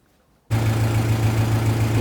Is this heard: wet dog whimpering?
no